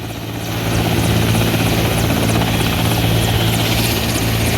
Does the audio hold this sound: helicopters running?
yes